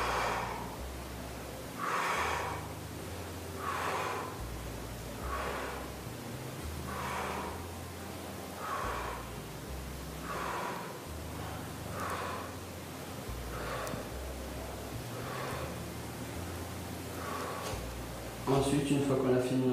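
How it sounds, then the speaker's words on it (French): Rhythmic exhalations and inhalations during a bodyweight strength exercise, breathing out on the way up and in on the way down, repeating steadily about every two seconds, close to the microphone over a low hum. "on expire sur la montée et on inspire sur la descente"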